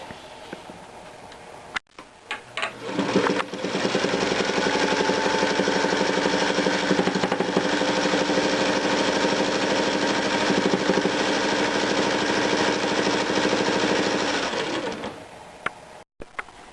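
A sewing machine stitches pinned quilt block seams at a quarter-inch allowance, running in one long fast steady buzz of rapid needle strokes for about ten seconds, starting after a few clicks and winding down to a stop, close and loud.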